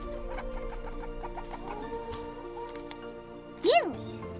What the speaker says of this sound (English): Watch out, chickens!